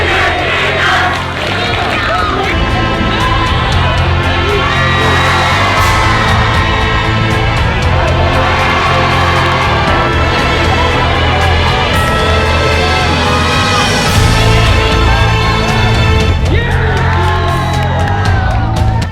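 Large crowd at an Ultimate frisbee tournament in Asia roaring, shouting and chanting continuously, loud and dense throughout with whoops and battle cries.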